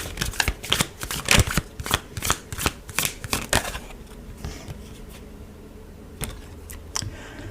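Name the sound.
shuffling tarot cards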